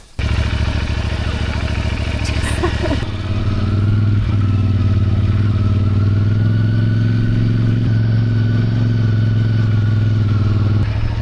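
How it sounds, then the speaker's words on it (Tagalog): Motorcycle engine running steadily at idle, its strong low hum continuous and close throughout, with a slight shift in pitch partway through and some faint clatter. "Ito yung motor natin"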